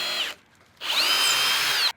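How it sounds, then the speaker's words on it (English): A power drill bores a hole outdoors for mounting an affordable solar light by a front porch walkway, in two loud steady high-pitched whining bursts separated by a short pause, with no talking. "Now let's go drill our last hole."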